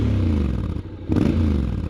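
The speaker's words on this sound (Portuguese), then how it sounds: "E o barulho do escape é fixe, ó." A Honda X-ADV 750 motorcycle's exhaust drones loudly and steadily at close range, with a brief dip and a rise in revs partway through.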